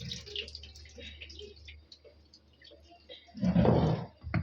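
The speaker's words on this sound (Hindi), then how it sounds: "दिखाओ इसका निकलता हुआ पानी" Dirty water drains out of a kitchen utensil, a low trickle and drip that swells into a louder gushing splash near the end, close by, with faint background voices.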